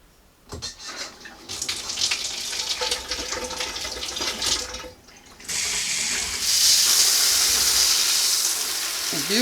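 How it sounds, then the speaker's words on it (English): Water sprays from an Evolve Technologies 3-spray 1.5 GPM handheld showerhead, a steady hissing rush that cuts in and out briefly before settling into a louder, brighter sustained spray. "we're going to turn the water on and see what kind of performance we get out of this new head."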